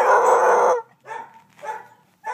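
A Basset/Dachshund mix dog barks and howls while playing fetch: one long drawn-out howling bark, then two shorter yelping barks and the start of another, loud and close with no talk.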